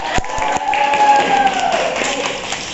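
Classroom applause for a student, a brief patter of clapping from a small group of pupils with a few sharp taps at the start, fairly close and steady for a couple of seconds.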